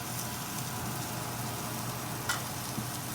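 A grilled cheese sandwich cooks slowly over low heat in a covered pan, making a soft, steady, faint sizzle with a couple of small ticks and no voices.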